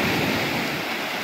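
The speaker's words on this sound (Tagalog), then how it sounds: "Sa sobrang laki ng alon mga idol." Large ocean waves surge and wash against a fishing boat out at sea, a loud, steady roar of churning water mixed with wind buffeting, unbroken and with no voices.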